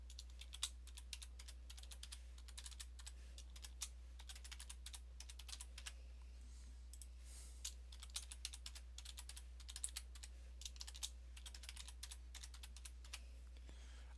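Rapid, steady typing on a computer keyboard while entering an email address, with dense clicking keystrokes continuing throughout under a constant low electrical hum, fairly quiet and close.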